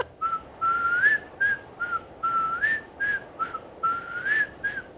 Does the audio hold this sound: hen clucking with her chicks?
no